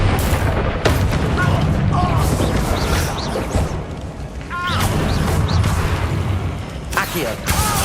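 Confringo blasting spells go off in Hogwarts Legacy, loud booming blasts and crackling bursts over continuous game noise, with several distinct impacts spread across the span and a voice shouting at times.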